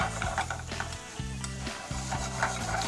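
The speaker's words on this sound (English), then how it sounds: "at this time, we will add our chopped melon. And continue to saute it." Chopped melon sautéing in a pan for rigatoni and melon, with a soft sizzle under repeated stirring scrapes and knocks of a utensil against the pan, close and fairly quiet.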